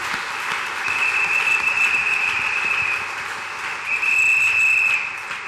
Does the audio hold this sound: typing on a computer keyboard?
no